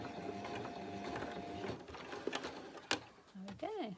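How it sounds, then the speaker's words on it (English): A home sewing machine runs a back stitch while making a wrist pincushion, whirring and clattering in short mechanical bursts, close up, with a brief voice near the end. "and then I'm going to do a back stitch."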